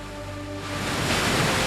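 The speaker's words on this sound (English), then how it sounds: "Waterfalls roaring and rumbling on their journey across rough rocky paths." Waterfalls in the Bhimashankar hills pour over rough rocky paths, a steady dense roar that swells slightly louder, with faint tonal hum at first.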